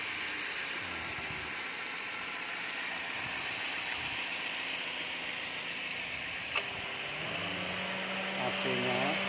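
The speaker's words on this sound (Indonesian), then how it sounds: "Nah, ini suara mesinnya nggak gitu." A 2018 Toyota Calya 1.2G manual with a 1.2-litre engine idles steadily and evenly at close range, a constant mechanical hum with a faint tick near the end, and a person speaks briefly over it.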